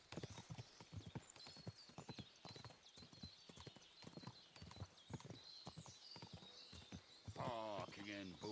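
In the video game Kingdom Come: Deliverance II, a horse's hooves clip-clop in a steady walking rhythm, with a whinny near the end and voices talking over the hoofbeats.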